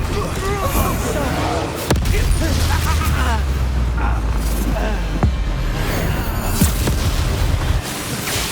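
A Confringo spell explosion in Hogwarts Legacy during a combat scene, with a deep, loud boom and rumbling blasts under continuous game sound effects and a voice.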